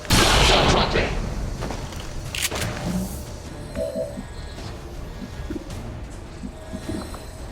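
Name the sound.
shard gun firing in video game XCOM Long War of the Chosen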